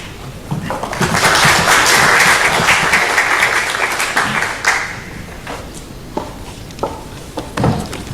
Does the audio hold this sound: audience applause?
yes